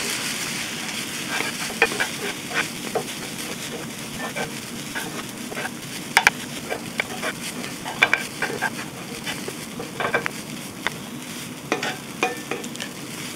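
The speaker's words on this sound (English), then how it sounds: "Now I'm going to mix poha and spices and onion very well." Poha tossed with spices and onion in a pan, a steady frying hiss under close, rapid spoon scrapes and clicks against the metal that continue throughout.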